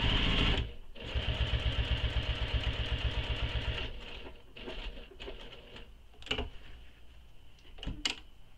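A sewing machine stitches a crossbody bag in a fast, steady run for a few seconds, then stops and restarts in short bursts with soft handling clicks between.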